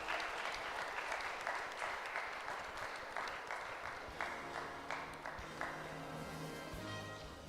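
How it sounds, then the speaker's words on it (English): Audience at a fire and safety seminar applauds as a panelist receives a memento, steady even clapping that runs for several seconds and then thins out, faint and distant overall. "Can we have a huge round of applause?"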